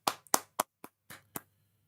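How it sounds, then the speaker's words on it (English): Six sharp hand claps from someone watching a Bulls–Bucks basketball game, close and fairly loud, in an uneven rhythm with short gaps, the last few slightly softer and more spaced out. "I know I shouldn't be clapping because that's probably going to be not pleasant to the ear"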